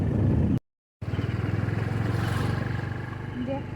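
A motorcycle carries riders through a village among hills and water, its steady close engine putter running under a talking voice, broken briefly by a short silent gap near the start.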